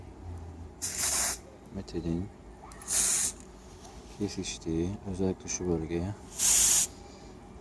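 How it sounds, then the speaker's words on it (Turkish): Three short, loud bursts of Root silicone aerosol spray hissing close by onto the door plastics of a Nissan Qashqai J11, with someone talking quietly between the sprays. "Elimde bir tane Root silikon spreyi var."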